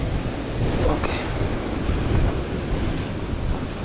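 Strong ocean waves break and wash steadily in a loud, continuous roar, with some wind buffeting the microphone.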